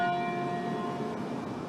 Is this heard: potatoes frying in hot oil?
no